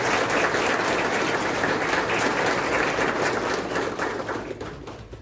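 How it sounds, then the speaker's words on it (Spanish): Loud, dense applause fills a hall as an audience claps for the provincial government at a public accountability event in Carchi, steady throughout and tapering slightly near the end. "Un aplauso para el gobierno."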